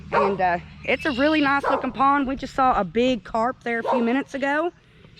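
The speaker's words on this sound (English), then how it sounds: "Sorry about the dogs barking. They don't know us." Dogs bark repeatedly at a friend's fishing pond, a run of yips and bow-wows close by, mixed in with someone talking over them.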